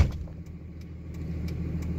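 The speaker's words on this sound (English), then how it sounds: "And the truck was running, idling for quite a while, and this truck doesn't like to idle like that." A pickup truck engine idles at Jekyll Island, Georgia, a continuous low rumble with faint ticking, steady and close for a couple of seconds with no voices.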